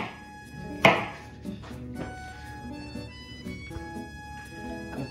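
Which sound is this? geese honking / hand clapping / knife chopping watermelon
knife chopping watermelon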